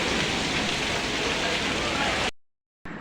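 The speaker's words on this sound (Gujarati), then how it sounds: "વરસાદ ને એવું કેવો છે" Steady heavy rain pours down during a monsoon shower in Botad, Gujarat, a dense, continuous hiss that runs alone for a couple of seconds before cutting out, then briefly resumes.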